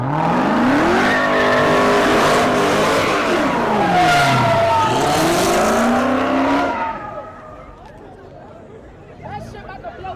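A Dodge Hellcat revs hard at a street car meet, engine pitch sweeping up and down through repeated loud revs with tire squeal, then dropping away to quieter crowd chatter and voices near the end.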